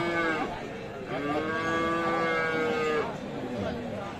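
Sahiwal cows lowing at a busy rural cattle market, several long drawn-out moos overlapping one after another, fairly close, over a murmur of crowd chatter and voices.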